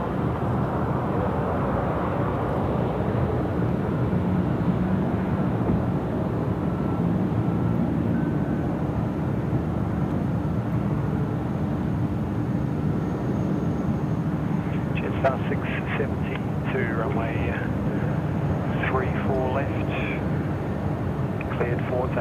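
An airliner takes off at Sydney Airport during the evening curfew period: a loud, steady, broadband roar fills the whole stretch, with radio or voice chatter rising over it near the end.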